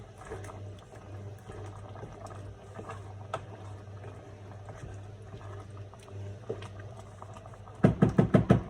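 Sorrel with peanut butter simmering in a pot gives a faint, low bubbling that goes on throughout, followed near the end by a quick run of louder knocking pulses close by.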